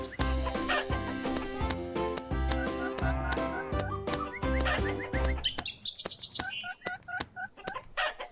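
Cartoon rooster clucking, a quick burst of high, bouncy clucks and squawks that follows a stretch of lively music.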